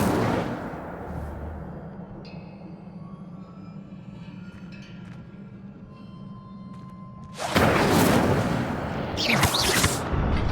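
The Incendio fire spell cast in Hogwarts Legacy, a sudden loud whooshing burst of flame near the end, following a quieter low rumbling stretch, close and roaring as it flares up twice.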